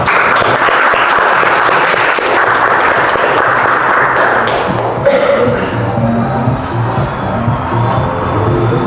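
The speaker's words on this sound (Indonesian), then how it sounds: "kita tepuk tangan untuk semuanya" Group applause for the winners of a classroom competition at an Islamic religious education teacher-training session. Loud, dense clapping fills the first half, then thins beneath crowd murmur and voices.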